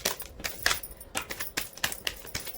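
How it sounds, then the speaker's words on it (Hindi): A tarot card deck is shuffled up close, a quick series of crisp riffling flutters and soft taps in an uneven rhythm, each burst separated by brief quiet pauses. "मैं शफल लेना शुरू करूंगी"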